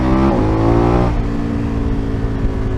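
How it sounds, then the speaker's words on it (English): A motorcycle revs and decelerates on a mountain pass in France, its engine note dropping sharply with loud, continuous exhaust popping and crackling close to the microphone. "Exhaust is popping quite a lot."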